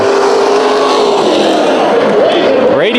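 Race cars at Bakersfield Speedway roar loudly together as the heat-race field restarts on the green flag, a dense, continuous engine drone that climbs sharply in pitch near the end.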